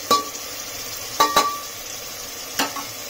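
Potatoes, tomatoes and masala fry in a pan under a steady sizzle, while a spoon makes three sharp, close scraping strokes as it stirs.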